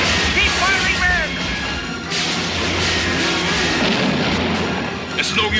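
Gunfire rings out in an old film serial: a dense, loud barrage of shots and crashing impacts that runs without pause, with a voice or two mixed into the din.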